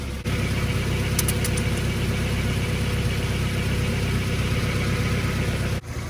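A Mazda Miata idles steadily and close by, a low even engine rumble running through almost the whole stretch, with a few faint clicks early on and nobody speaking.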